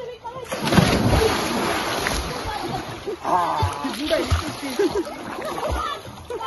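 Water splashing and sloshing close by as people dunk their heads in water, mixed with lively voices of several people talking and calling out over the watery noise.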